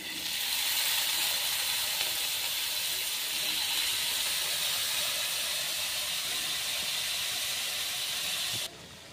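Potatoes frying in hot oil in a pan: a loud, steady sizzling hiss that holds throughout and drops off sharply at the end.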